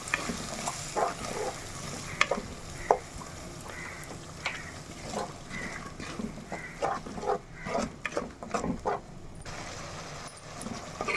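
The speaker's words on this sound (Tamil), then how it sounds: "சேர்த்துட்டு இது எல்லாத்தையும் ஒரு ஒரு நிமிஷம் வதக்கிக்கலாம்" Masala for a fish curry sautéing in a pan, a soft sizzle under repeated scraping stir strokes and clatter from a spatula, close and fairly quiet.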